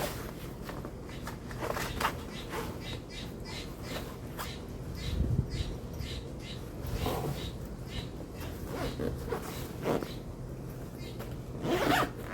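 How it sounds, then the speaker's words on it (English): The zipper on a portable camp chair's carry bag is pulled closed in a series of short rasping strokes, close and fairly quiet, with faint rustling and shuffling around it. "Zipping up the bag."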